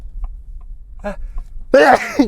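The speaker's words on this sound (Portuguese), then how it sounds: "Eu vou espirrar." A single loud sneeze bursts out near the end after a few quiet breaths and faint vocal sounds.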